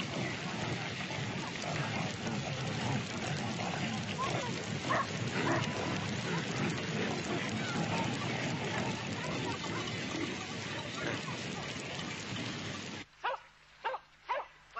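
Dogs bark in a snowy mountain setting, a steady wash of noise through most of the stretch, then three short sharp barks stand out clearly near the end.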